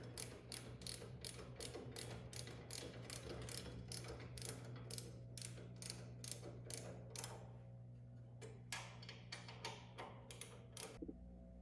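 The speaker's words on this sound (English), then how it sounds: "with your 5 millimeter Allen key, you're just going to tighten them down until you collapse the lock washer" Bolts are tightened with a 5 mm Allen key until their lock washers collapse while a fan housing is installed, giving bursts of rapid, regular mechanical clicks over a steady low hum, then a pause and a few more clicks.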